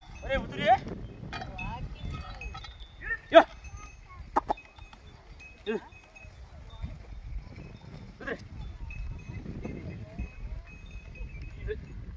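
Bulls on a peanut farm in the Konkan countryside, with several short calls and clanking knocks scattered over steady outdoor rumble while people talk nearby.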